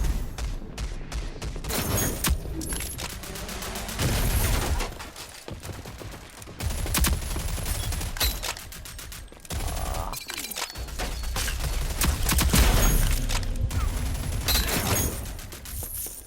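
Rapid bursts of gunfire in a shooter video game, with loud volleys and booms repeating across the clip, separated by brief quieter gaps.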